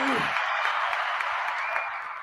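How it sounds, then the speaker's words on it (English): An audience at a live Walking Dead discussion event applauds in a dense, steady wash of clapping that tapers off toward the end, with a brief voice at the very start. "You deserve all of the applause, man."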